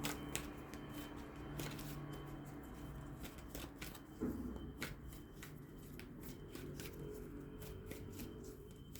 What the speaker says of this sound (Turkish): Bir bonus kart çekmek istiyorum.